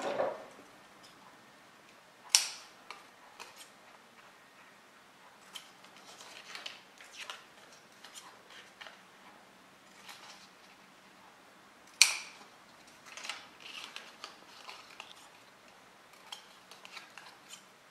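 Scissors snipping the corners off a handmade paper album, a couple of sharp close cuts among soft paper rustles and light handling clicks in a quiet room.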